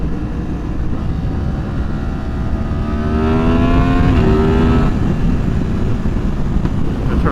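Motorcycle engine droning steadily under road and wind rumble, then rising in pitch as the bike accelerates through a gear before the note drops back, heard from on board with no talking.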